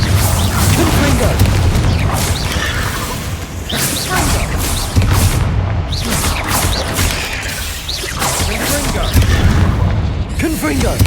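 Confringo fire spells burst over and over in the video game Hogwarts Legacy, loud booming blasts and crashes overlapping in a dense, continuous battle din with a voice calling out amid the noise.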